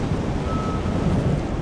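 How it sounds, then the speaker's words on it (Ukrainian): Strong wind roars straight into the microphone at a clifftop in Triglav National Park, Slovenia, a dense, buffeting rumble that fills the whole moment without a break. "Вітер страшенний, навіть не знаю, чи мене буде чути"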